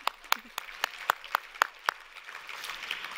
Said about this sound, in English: yeah, we can applaud.